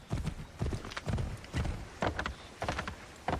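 Hooves of a galloping horse in the video game Assassin's Creed 3, running uphill, pound out a steady repeating clip-clop rhythm in clustered beats, moderately quiet and without voices.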